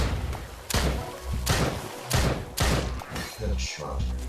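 Grenade explosions in the video game Drop Dead Dual Strike Edition: three heavy, booming blasts roughly a second apart, each with a rumbling tail, followed by a few smaller thuds.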